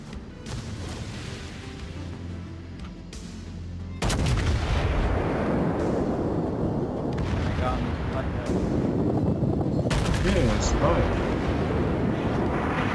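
Heavy gun turret fire in a video game, a dense run of booming shots that grows louder and denser after the first few seconds, with voices talking over the barrage.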